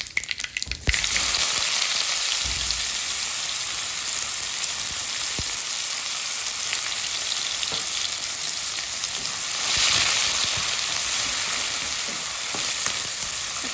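Hot oil sizzles steadily with cumin, mustard seeds and asafoetida, onion frying in the pan for a Maharashtrian thali; a loud, close, continuous crackle that swells slightly toward the end, with no talking.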